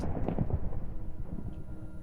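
A lightning strike in a video game lands as a low, rumbling boom with a short crackling burst at the start, then rolls off in a dull rumble.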